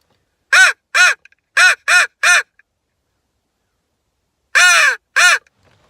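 A hammering crow call, a handheld hunting call mimicking crows, blows loud, close caws: a quick run of five harsh notes, a pause, then two more, alone against silence.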